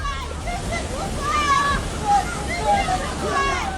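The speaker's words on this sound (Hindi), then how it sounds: "बच्चा चट्टान के बीच जहां फंसा था वहां पानी की तेज धारा बह रही थी" Fast flash-flood water surges over rocks in Saudi Arabia, a dense continuous rushing and sloshing roar, loud and close, with voices speaking over it.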